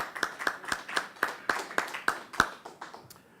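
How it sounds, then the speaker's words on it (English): At a panel session on battery materials in Singapore, a few people clap in slow, evenly spaced rhythm as the panelists take the stage, about ten distinct claps that soften and trail off. "A little round of applause."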